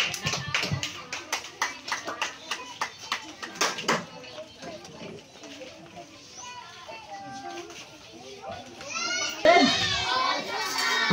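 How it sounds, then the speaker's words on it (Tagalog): An audience claps at a church gathering, a burst of sharp hand claps over the first few seconds, followed by voices and murmuring, then speech near the end. "palakpak!"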